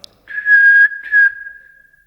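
A voice imitates a pressure cooker whistle with two loud, sustained whistle bursts followed by a fading tone, close and alone.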